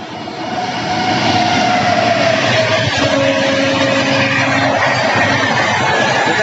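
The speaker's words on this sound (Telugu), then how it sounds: "కొల్లూరు రైల్వే స్టేషన్లో విత్ ఫుల్ స్పీడ్తో వెళ్తుంది ట్రైను" A train races through Kolluru railway station near a level crossing at full speed, a loud, continuous rumbling roar that swells in the first second and then holds steady, close by, with no talk.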